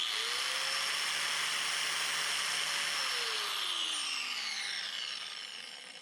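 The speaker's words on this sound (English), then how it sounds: "No problem using a side grinder." A corded side grinder powered by a BLUETTI EB70 portable power station, whining steadily and loudly up close for several seconds with shifting pitch, then easing off as it spins down, no talk over it.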